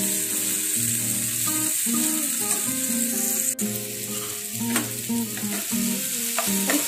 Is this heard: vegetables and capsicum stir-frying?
yes